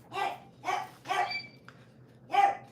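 A dog barks four times in a home kitchen during a cooking session: sharp, fairly close barks spaced about half a second apart, with a short gap before the last one. No one talks.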